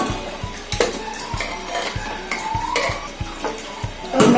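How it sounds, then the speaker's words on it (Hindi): Cooked contents are tipped from a pot into a vessel of milk for making kheer, with a series of sharp metallic clinks and scrapes at a regular pace, close and clear, alone without talk. "और मैं इसे इसमें पलट देती हूँ, दूध के बर्तन में।"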